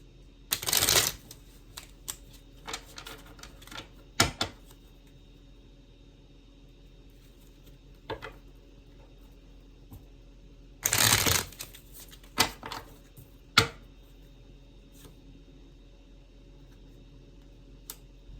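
Playing cards being shuffled and drawn, with two loud riffle bursts near the start and middle and scattered sharp card snaps and flicks between them, close up against quiet room tone and no talking.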